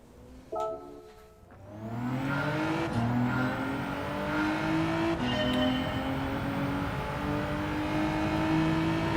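A race car engine in Gran Turismo 7 winds up through repeated gear changes, each pitch rising then dropping back, with a brief tire squeal near the start, steady and moderately loud.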